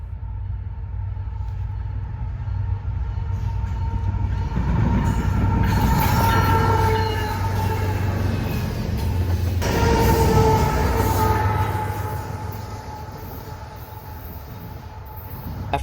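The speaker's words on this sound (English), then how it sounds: "a CN Heritage unit as a rear DPO on a BNSF CN transfer" A BNSF-CN transfer grain freight train with a CN Heritage unit as rear distributed power rolls past close by, a loud steady rumble of wagons with squealing wheels and clanking, swelling and easing over about sixteen seconds.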